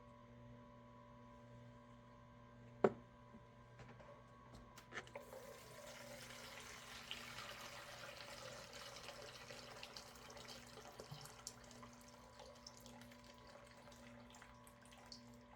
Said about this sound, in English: I'll run some more water through here on the cleaning mode.